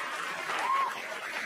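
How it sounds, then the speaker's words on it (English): Audience applause at a stand-up comedy show, a brief steady wash of clapping from a crowd at moderate level. "Mark Norman, please clap for him."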